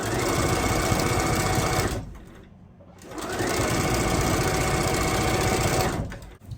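A sewing machine stitches quilt block pieces at a medium stitch length, a loud close rapid mechanical whir running steadily, pausing briefly midway, then resuming before stopping.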